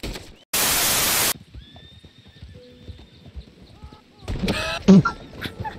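A burst of harsh static gives way to a horse's neighs and a clatter of hooves in Red Dead Online, with game-like sound effects, loud and close.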